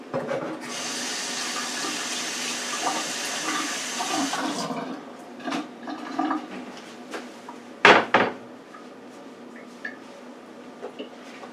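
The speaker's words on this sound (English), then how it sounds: "Wash my hand." Tap water runs steadily into a sink while hands are washed in a home kitchen, a broad continuous splash that ends after about four seconds, followed by a few quiet clinks and one sharper knock.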